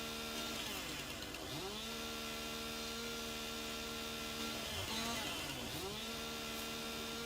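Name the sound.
chainsaw stripping trees in Farming Simulator video game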